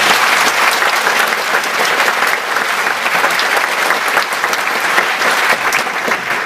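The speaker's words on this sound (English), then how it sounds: "I'd just like to give her a round of applause." A large audience at a live talk bursts into sustained, loud applause, a thick continuous roar of clapping that holds steady for over six seconds with scattered crowd noise underneath and no clear speech.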